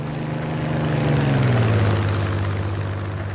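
Airplane engine in a video game, muffled by sound occlusion, as a loud steady propeller drone whose pitch slides downward midway and then holds low and dull, with no talking.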